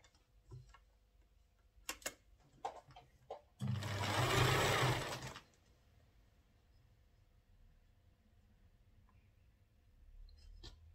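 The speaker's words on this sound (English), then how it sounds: "So let's sew." Sewing machine stitching a fish-style skirt in a sewing room, one loud steady run of about two seconds preceded and followed by light clicks and handling ticks, with no talking.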